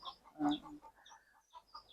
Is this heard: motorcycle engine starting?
no